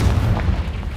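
The Confringo fire spell in Hogwarts Legacy goes off as a single dense, booming blast, loud and rumbling through the whole moment with no talk over it.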